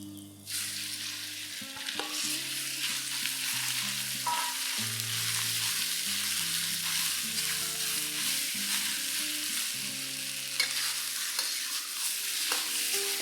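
Beef stir-frying in a hot pan with cumin, giving a loud, steady sizzle and crackle throughout, broken by the scrape and clatter of a spatula stirring the meat.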